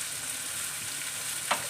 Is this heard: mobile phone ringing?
no